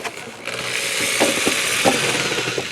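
A power drill drives screws to lock a pipe in place on a garden compost tower, a steady close whirring drone with a few clicking bursts, loud and continuous, with no talk.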